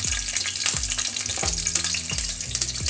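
Peanuts and chopped green chili fry in hot oil for chow mein, a loud continuous sizzle with crackling bursts and a few stirring scrapes, close and alone without talk.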